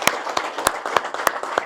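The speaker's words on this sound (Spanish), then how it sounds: "Démosle gracias a Dios con un fuerte aplauso por los 8 años de la empresa." Congregation at a Catholic mass applauding, a short burst of scattered handclaps with distinct sharp claps standing out, fairly close and lively, no speech over it.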